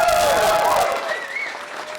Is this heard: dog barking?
no